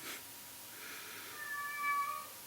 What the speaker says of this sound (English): My cat's telling me it's dinner time.